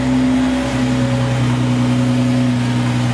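A 1,800-horsepower Nissan GT-R sits running with a steady, loud engine drone and a thin, high turbo whistle riding over it, close by and unbroken, with no talk.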